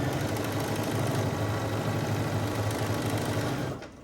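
A sewing machine runs steadily with a dense mechanical whir and rattle, its bobbin clanging, then slows and stops near the end.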